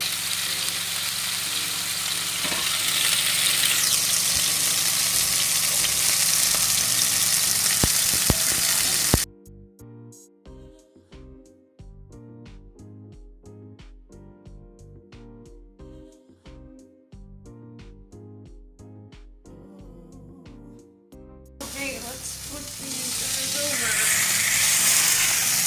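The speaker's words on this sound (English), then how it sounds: "Pan fry until golden brown, 2 to 3 minutes per side." Steak pan-fries in oil until golden brown, sizzling loudly and steadily at the start and again at the end, with a gentler stretch between where a soft voice and music play over the quieter frying.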